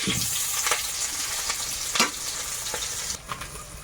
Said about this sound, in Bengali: কালো জিরে দিয়েছি তেলের মধ্যে কাঁচা লঙ্কা পেঁয়াজ কুচিটাও দিয়ে দেবো